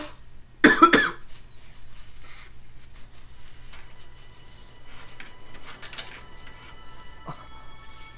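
A burst of harsh coughing from a sick person, a few rapid coughs close by, over a quiet background hum from a Zelda: Skyward Sword gameplay session, with a faint click or two later on.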